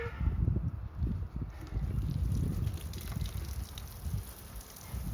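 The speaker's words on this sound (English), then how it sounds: "we're going to water everything in" Water pours and gushes steadily from a watering can onto garden soil for several seconds, a soft, continuous splashing with no talking.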